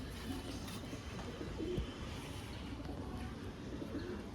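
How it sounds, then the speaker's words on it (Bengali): Large Benarasi Kalsila Rampuri pigeons, a full arm's length in size, coo softly and intermittently against a steady low background hum. "পুরো এক হাত লম্বা সাইজের পায়রা"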